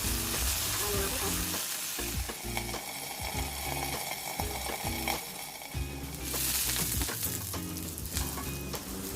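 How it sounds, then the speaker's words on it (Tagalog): Potatoes frying in a pan with salt and black pepper, a steady loud sizzle with stirring scrapes, over background music and no speech. "let's start it by frying your potato with salt and black pepper for 8 minutes"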